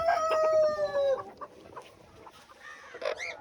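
A rooster crows close by with a long drawn-out call, followed by scattered clucks and short squawks from chickens, fairly loud at first and then quieter, with no talk.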